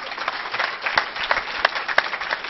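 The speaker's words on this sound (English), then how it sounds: "I think it's time for a round of applause" Audience at a security conference talk breaking into applause, dense steady clapping from many hands with a few sharper claps standing out, continuous for the whole stretch.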